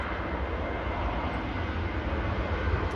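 An airliner departing Manchester Airport, a steady broad roar of jet engines heard from a distance with no other sounds over it.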